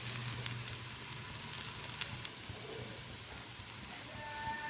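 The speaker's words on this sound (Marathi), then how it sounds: "ह्या जाडसर असल्यामुळं आपण शक्यतो चारी बाजूने ह्याला फ्राय करून घेऊया" Thick beetroot leaf vadi fry in a pan with a constant close sizzle, like steady rain, and a few faint clinks over the hiss.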